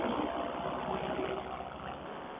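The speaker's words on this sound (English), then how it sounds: "Rev my engine, see if you can hear me." Paraglider engine drones steadily in flight, a continuous even motor hum throughout with no voices.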